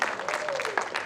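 A church congregation applauds, a short burst of dense clapping from a crowd, steady and moderately loud, with a voice speaking over it.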